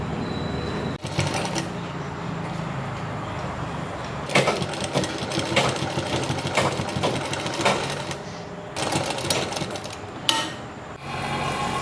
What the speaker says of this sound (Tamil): நான் இப்போ தைச்சு காட்டுறேன்.